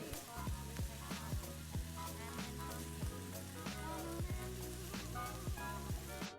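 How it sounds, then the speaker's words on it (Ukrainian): Steady, close sizzling of minced meat frying in a hot pan without oil, with crackling pops and occasional scraping of a utensil breaking up the mince. "Обсмажуємо фарш, постійно розбиваючи усі грудочки."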